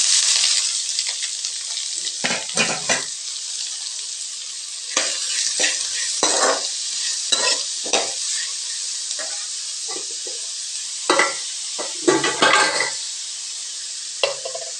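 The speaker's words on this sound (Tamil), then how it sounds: "வெங்காயம் நல்லா வதங்கிட்டுங்க." Chopped onions and slit green chillies sautéing in oil for radish poriyal, a constant close sizzle with repeated bursts of spoon stirring against the pan, no speech.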